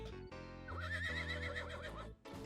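A horse in the mobile survival game Rust Mobile gives a loud, rising-and-falling whinny lasting about two seconds, set over a steady in-game background with a few hoof clops.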